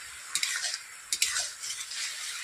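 Tomato pickle cooking in a pan over low heat is stirred with a spoon, a few quick scraping clinks against the pan over a soft background sizzle, close and fairly quiet.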